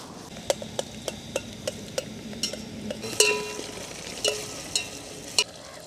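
Whole spices tempering in hot oil for a pulao give a sharp crackling sizzle burst midway, amid steady rhythmic spoon taps and clinks against the pan.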